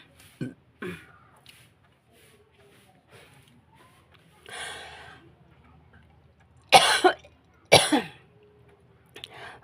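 Several coughs and throat clearings from a woman with a cold, a couple of short ones early, a raspier burst mid-clip, then two loud close coughs near the end, with quiet pauses between.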